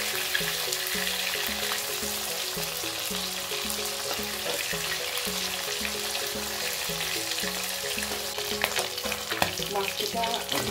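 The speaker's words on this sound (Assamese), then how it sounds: "মাছকেইটা ধুনীয়াকৈ ফ্ৰাই হ'ল" Pieces of bhangan fish shallow-frying in hot oil, a dense steady sizzle and spatter close by with faint rhythmic background clatter, no voices.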